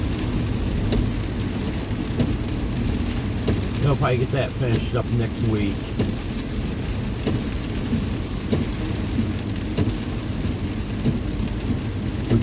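Rain falls during a car drive, a steady patter and wash against the car that runs throughout, with someone talking over it.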